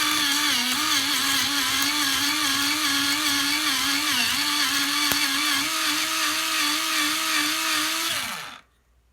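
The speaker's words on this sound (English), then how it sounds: "So let's sharpen it up a bit with our sharpener." An electric pencil sharpener grinding a 2H drawing pencil whirs steadily and loudly for about eight seconds with a faint wavering pitch, then winds down and stops.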